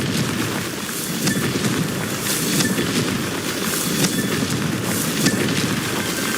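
A Confringo blasting spell explodes in the Hogwarts Legacy video game during a Merlin trial, heard as a dense, sustained roar of crackling bursts and rumbling booms at steady loudness, with faint sharp tones flickering through.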